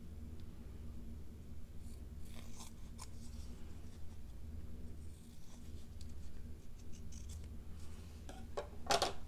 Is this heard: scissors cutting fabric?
yes